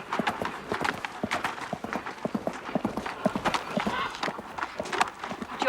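A horse's hooves clip-clop in a steady, fairly close rhythm on hard ground, with a voice talking over them.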